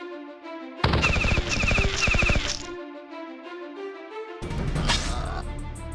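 Gunners in the video game Battle Nations fire machine guns in loud, rapid bursts, two long volleys separated by a brief pause, layered over a steady synthetic game music backdrop with no talk.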